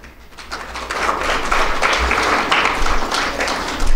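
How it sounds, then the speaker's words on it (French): Audience applause at a book signing for a medical novel, a steady wash of clapping building over a few seconds with faint background murmur. "Je voudrais qu'on l'applaudisse"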